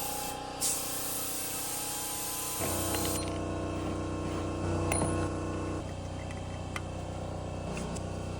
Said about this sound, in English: now we're spraying the clear coat